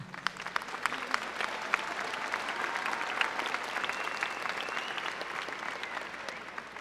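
Audience at a high school graduation ceremony breaks into steady, sustained applause, many hands clapping at once in a large space with a faint crowd murmur beneath.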